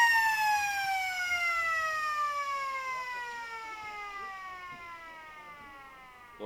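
A long siren sounds to end the third quarter of a Riverina AFL football match between the Lions and the Eagles, a steady sustained tone slowly falling in pitch, loud and clear over faint crowd background.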